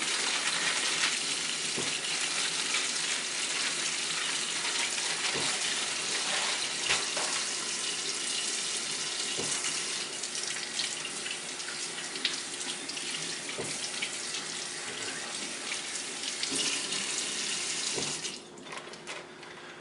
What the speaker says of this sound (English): I actually like washing off each piece of meat because really it's just been sitting in a bag of blood